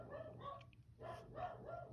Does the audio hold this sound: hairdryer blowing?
no